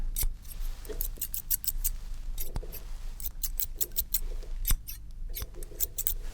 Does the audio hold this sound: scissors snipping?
yes